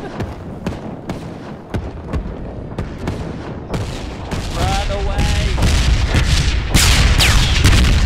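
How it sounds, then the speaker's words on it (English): Artillery barrage in the Hell Let Loose video game, a commander's line bombardment: a run of sharp booms and blasts, sparse at first then building into dense, continuous loud explosions and rumble, with faint voices under it. "one of his abilities is to bombard anything on the map in like a line formation"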